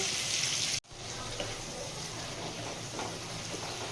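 Tomatoes fry in a pan as the base for a mustard-poppy seed fish curry, giving a constant soft sizzle and crackle after a brief cut near the start.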